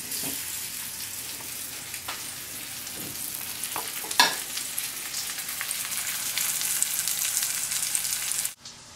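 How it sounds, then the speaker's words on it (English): Steady frying sizzle from pork chops searing in a hot pan, a continuous crackling hiss with occasional louder pops, close and fairly loud, no talking. "So do you hear that sizzle? That's what you want to listen for"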